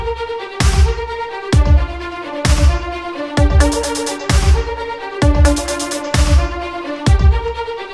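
Electronic music project intro playing back, with Nexus synth arpeggios over a steady beat of punchy repeating drum hits and layered sustained chords, loud and continuous without talk.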